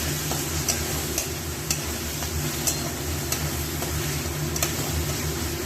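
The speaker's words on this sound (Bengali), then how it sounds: "মশলাটা মোটামুটি ভাজা হয়ে গেছে, ভালোই ভাজা হয়ে গেছে" Spices and jackfruit fry in a pan with a soft, even, continuous sizzle, dotted with faint, regularly spaced ticks and pops, and no voices over it.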